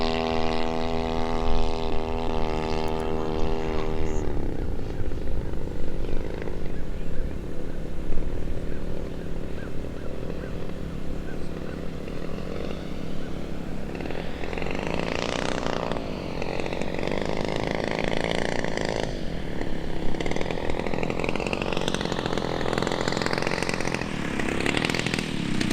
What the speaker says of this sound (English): Big biplane, 4-blade prop, flying wires.